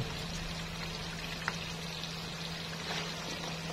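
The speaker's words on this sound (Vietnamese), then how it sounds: "mình sẽ chiên lửa vừa nha các bạn chiên từ từ cho nó giòn" Rice paper spring rolls fry in oil over medium heat, giving a steady, quiet, even sizzle with faint crackles and no voices.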